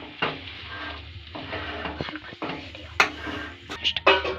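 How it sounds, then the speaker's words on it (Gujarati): Spoon stirring chutney through bhungla potatoes in a pan, with steady scraping and clinking strokes and light sizzle underneath, close and moderately loud. "હવે તેમાં આપણે લાજવાબની ચટણી ઉમેરી દઈશું હવે તેને હલાવી દઈશું"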